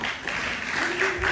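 Short burst of audience applause in a festival hall, a steady patter of clapping with a voice sounding faintly over it.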